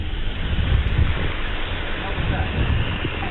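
Hurricane-force wind gusts roar in a constant, heavy rush, buffeting the microphone with loud low rumbling surges and broadband noise that never lets up.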